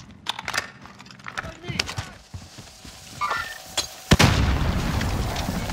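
Amid scattered clicks, footsteps and voices talking, a grenade goes off in the Warzone video game: one sharp, loud blast near the end, followed by a rumbling tail.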